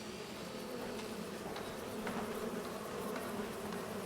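Bees buzz from hives on a farm in Farming Simulator 25, a continuous droning hum held steady throughout at moderate loudness, with no voices.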